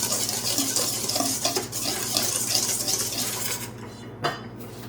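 Pumpkin pancake batter being stirred in a bowl, a busy run of scraping and clinking utensil-on-bowl sounds, close and fairly loud, settling into a few separate knocks near the end, with no talk.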